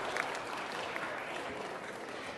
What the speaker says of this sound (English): Let's give our young folk a round of applause